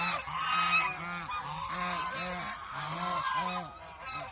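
Ducks call over and over in loud, nasal honking quacks, overlapping into a busy, steady chorus close by.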